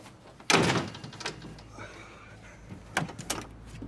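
A house door is shut with a single loud, sharp thud, followed by a quieter room tone and a few softer knocks and clunks.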